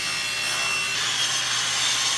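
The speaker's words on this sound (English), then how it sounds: "I'm going to cut my drop-in plate 8 1/4 by 11" A plexiglass drop-in plate for a router table is cut with a saw, producing a loud, continuous rasping hiss that grows slightly brighter and stronger partway through, with no talking.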